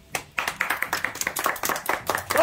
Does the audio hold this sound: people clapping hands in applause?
yes